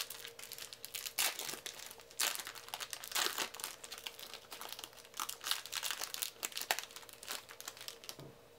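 Crinkly plastic wrapper of a 1993 Skybox trading card pack being torn open and handled, a continuous close, quiet crackling with irregular sharper crunches throughout.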